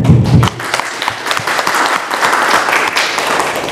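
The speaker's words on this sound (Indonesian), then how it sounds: "Tepuk tangannya kencang Bu." Audience applause at the opening of an ambulance and basic emergency response outreach event in East Jakarta, a dense burst of indoor clapping that follows a short loud sound at the start and carries on steadily.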